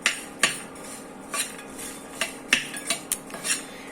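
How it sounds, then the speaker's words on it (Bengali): Protein laddu ingredients being lightly roasted in a pan, heard as scattered light metallic clinks and scrapes of a utensil stirring against the pan, irregular and fairly quiet, with no talking. "আমি সবগুলো উপকরণ একদম হালকা আছে ভেজে নিচ্ছি"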